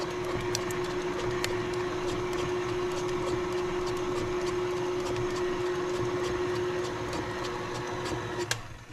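An electric mixer beats pizzelle batter with vanilla, giving a steady, continuous motor whine at close range with faint clicking throughout, running alone without talk until it cuts off near the end.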